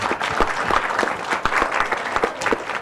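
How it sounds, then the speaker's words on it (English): An audience at an evening technical meeting of petroleum engineers in Thailand claps together for about three seconds, with dense, steady applause and no voices standing out. "can you give another round of applause for our general sponsor"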